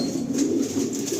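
A Belgian racing pigeon at a loft gives a soft, low, continuous coo, close and unbroken for a brief moment with no voices.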